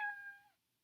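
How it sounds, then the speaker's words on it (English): A phone app's cat-meow notification sounds once, a short, faint synthetic meow that fades out quickly with no voices. "if you just heard a cat, that was not actually one of my cats. That was my phone."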